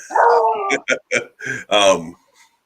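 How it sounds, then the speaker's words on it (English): A beagle lets out a drawn-out howl followed by a quick series of sharp barks, loud and close. "That was my beagle."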